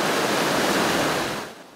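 Floodwater of the overflowing Don river rushing loudly and steadily, a dense broadband roar that fills the whole clip without speech and eases slightly at the end.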